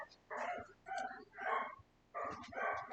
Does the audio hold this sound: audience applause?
no